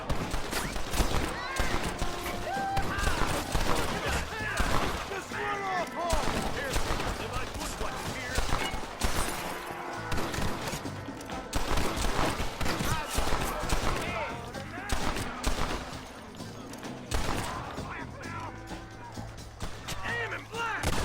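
Rapid gunfire from revolvers and rifles in a Red Dead Redemption shootout, crackling bursts and repeated shots running throughout amid game noise, with voices shouting over the fighting.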